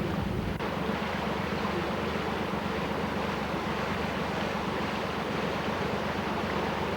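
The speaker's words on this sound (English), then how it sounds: "Don't worry when water starts going over the side of the bottom chamber." Excess water spills over the weir beside the bottom chamber of a lock on the Staffs & Worcs Canal, a steady, loud, unbroken rush and roar with no voices.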